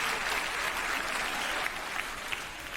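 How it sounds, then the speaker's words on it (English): Enthusiastic applause from a theater audience for a cast, a dense wash of clapping that stays even and fills the room for a few seconds. "Let's give this cast another round of applause."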